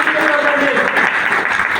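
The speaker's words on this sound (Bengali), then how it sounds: "জোরে একটা হাততালি যায়।" Loud audience applause in a party center hall during a nutrition seminar, a brief dense burst of clapping that fills the space.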